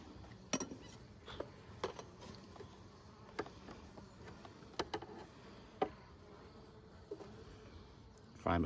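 Honeybees buzz steadily inside a ten-frame hive during an inspection, a dense, even drone close by, broken by a few sharp clicks and knocks of frames being handled. No one speaks.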